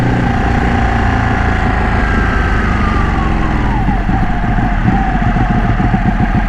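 A Ducati Panigale 1199 Tricolore superbike with a modified exhaust roars steadily and loudly up close while being ridden, a sustained engine drone with a rising and falling pitch.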